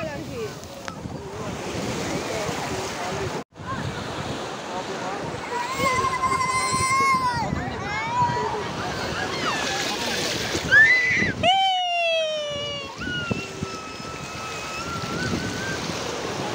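Ocean waves washing steadily at Koduru beach under gusting wind, with children's voices and chatter over the surf.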